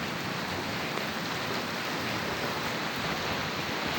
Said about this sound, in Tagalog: Yan na, lakas na ng ulan,